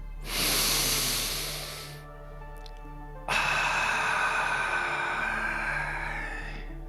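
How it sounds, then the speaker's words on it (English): A deep breath drawn in and then let out slowly in a long, soft, airy exhale, heard close and alone over a low steady hum. "let's take 3 nice deep breaths, saying our wonderful words of affirmation during each exhale"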